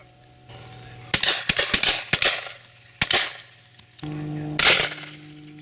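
Shotguns firing at a pheasant and partridge shoot outdoors: several sharp, loud reports in quick succession, then two more spaced-out bangs, over a steady low background hum.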